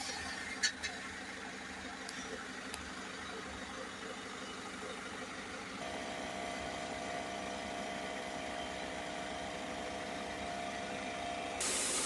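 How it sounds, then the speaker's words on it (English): A Citroen Relay 2.0 diesel van engine idles steadily during a DPF cleaning, a low continuous rumble with a faint spray hiss and a few light knocks early on, a higher whine joining partway through. "now we are going to start the van up. We'll let the engine run while we spray in the second bottle"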